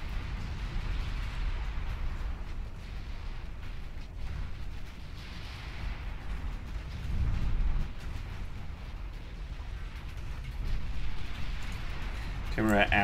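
Naval gunfire aboard ships in the Ultimate Admiral Dreadnoughts battle game, a continuous heavy rumble of distant booming shots and explosions rolling under the mix, with a sharper burst near the end.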